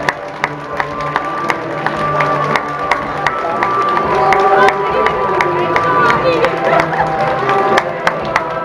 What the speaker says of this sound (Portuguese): As nossas palmas também para o Centro Social de Santa Maria de Serradora.